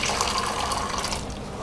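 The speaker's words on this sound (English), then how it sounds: "I'm going to add the stock from the meat into the stew and then let it simmer for some minutes." Meat stock poured into a simmering Ghanaian stew for tuozaafi, a steady continuous splashing, liquid-filling rush, close and fairly loud, with no talking.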